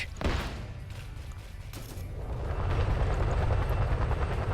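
Chinook helicopter coming under fire in a combat video game, a heavy rotor thrum and low engine rumble building under sharp bursts of gunfire and impacts.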